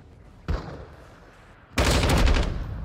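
Gunfire in a PlayStation combat video game: a sharp single shot, then about a second later a loud, sustained burst of rapid shots that carries on to the end.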